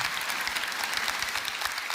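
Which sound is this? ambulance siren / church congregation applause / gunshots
church congregation applause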